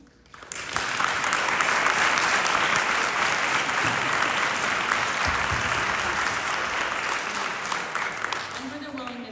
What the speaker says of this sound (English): I'm going to ask you first to applaud our candidates.